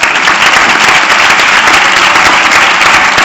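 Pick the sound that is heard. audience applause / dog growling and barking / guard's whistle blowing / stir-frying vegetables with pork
audience applause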